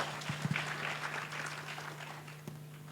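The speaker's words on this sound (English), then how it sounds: "Let's clap hands for him." A church congregation at a revival service claps faintly and briefly, soft scattered applause over a steady electrical hum, with a few sharper knocks near the start.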